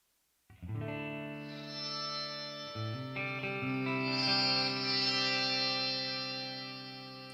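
Electric guitar played through a Headrush MX5 with a Cali76 compressor and air reverb, sustained chords ringing out in two changes, smooth compressed and spacious, steady and fairly loud, no voices.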